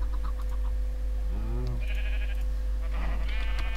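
Minecraft sheep bleating in-game: a couple of short, wavering bleats rise over a steady background hum, with no talk.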